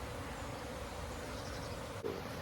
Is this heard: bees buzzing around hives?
yes